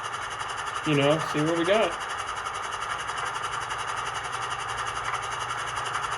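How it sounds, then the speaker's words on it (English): Sound decoder in a ScaleTrains GE/NS AC44C6M model locomotive running its air compressor, a steady mechanical chugging hum continuing throughout, with someone briefly talking over it near the start. "There goes his compressor."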